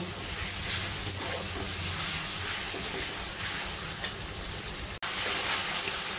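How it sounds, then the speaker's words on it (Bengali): Minced mutton stirred and frying with spices in a pan over medium flame, a steady broad sizzle throughout with a faint scrape near four seconds and a brief dropout near five seconds. "এবার মিডিয়াম ফ্লেমে এইভাবে নাড়া দিয়ে দিয়ে ভালো করে কিমাটাকে কষিয়ে নিতে হবে"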